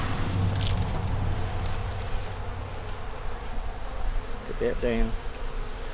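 Honey bees buzz steadily around the hives in an outdoor apiary, a close, continuous droning hum with individual bees zipping past, and a person speaks briefly near the end.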